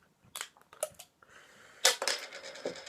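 Crown cap being pried off a bottle of Ballast Point Grapefruit Sculpin beer: a few sharp clicks and taps of the opener, then a louder metallic pop and fizzing hiss of escaping carbonation, close and alone.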